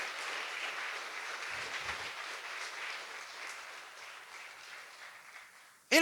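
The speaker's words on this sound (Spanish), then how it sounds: "¿Por qué no le damos un fuerte aplauso a nuestro Señor Jesucristo?" Congregation applause for Jesus Christ at a Spanish-language church service, a steady wash of clapping lasting several seconds with a brief sharp sound at the very end.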